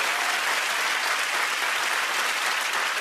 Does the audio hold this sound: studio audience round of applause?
yes